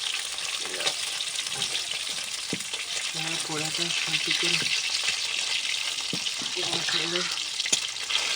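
Pieces of pona fish fry in an oiled pan with a steady, close sizzle. Intermittent scraping and stirring sound throughout, and brief voices come through midway.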